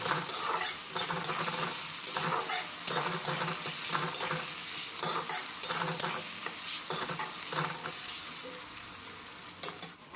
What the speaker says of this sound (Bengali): আদা রসুনটা পেঁয়াজের সঙ্গে হালকা ভেজে নিতে হবে